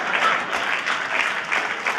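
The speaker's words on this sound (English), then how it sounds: "clap for Jesus" Church congregation applauding during a healing testimony service, a steady dense wash of many hands clapping at close range, fairly loud throughout with light crowd murmur beneath.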